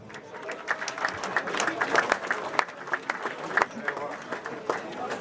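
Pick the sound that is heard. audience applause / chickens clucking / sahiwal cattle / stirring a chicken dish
audience applause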